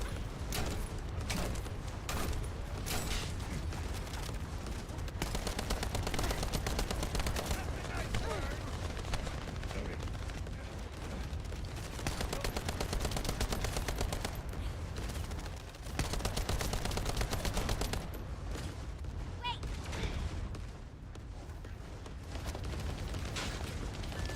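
Sustained gunfire in the sci-fi shooter game The First Descendant, dense rapid bursts and booming shots with mechanical clatter, loud and nearly continuous, with a brief lull near the end.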